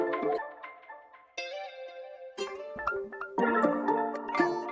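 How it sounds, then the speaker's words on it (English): Guitar layered into a looping R&B melody lays down bouncy, plucked notes with shifting chords, moderately quiet and close, in several short phrases with brief gaps. "Then I've added this last guitar here."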